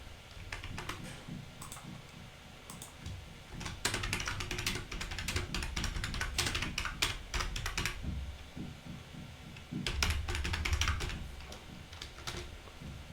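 Steady typing of Python list comprehension code on a computer keyboard, with rapid clusters of keystroke clicks and short pauses between them, close and moderately loud, with no speech.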